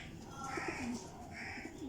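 Golden pigeons at a breeder's loft give soft, low coos close by, set against a busy room-tone background.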